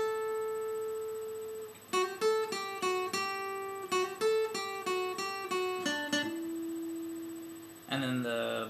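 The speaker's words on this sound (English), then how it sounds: "little intro riff is going to play like this" Guitar intro riff from a song, played as a string of distinct picked notes in a steady rhythm after a held note, up close and clear, followed by a brief strummed chord.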